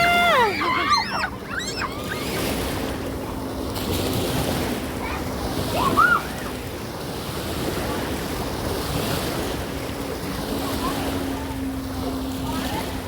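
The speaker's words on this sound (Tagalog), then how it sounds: "Ayan na yung alon." Sea waves wash in along a beach where people are swimming, a steady broad surf wash with wind noise throughout and a brief louder surge midway, under excited voices and a shout near the start.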